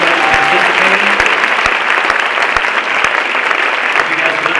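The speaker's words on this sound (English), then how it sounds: "let's give a round of applause to our panelists." A conference audience applauds the panelists at a keynote and panel event, with steady, dense clapping that fills the room from start to finish and a few voices faintly mixed in.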